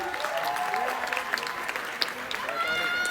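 Steady applause from a crowd fills the whole stretch, with a voice or two talking faintly underneath.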